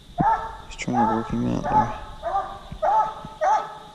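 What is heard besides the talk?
Walker coonhound barking on a strike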